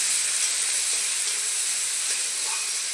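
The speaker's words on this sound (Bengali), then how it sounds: "মূলোগুলো দিয়েও একটু হালকা করে ভেজে দেব" Radish pieces fry lightly in a pan of oil alongside half-fried potatoes, giving a steady, even sizzling hiss that holds at the same level for the whole few seconds with no voices.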